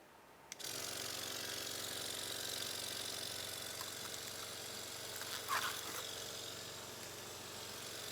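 A laboratory vacuum pump starts up to draw air through a vacuum filtration setup collecting vanillin nitration crystals, then runs as a steady, fairly loud mechanical hum with one brief clatter midway.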